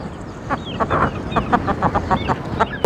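Hens in a coop cluck in short, irregular bursts as they are caught, several birds close by, with sharper squawks between the softer clucks.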